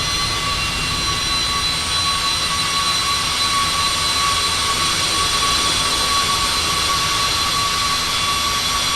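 A Carenado Citation 550 business jet in a flight simulator gives a steady, continuous jet engine roar with a high whine, loud and unbroken throughout, with no talking.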